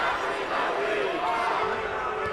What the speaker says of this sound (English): Crusader crowd getting loud.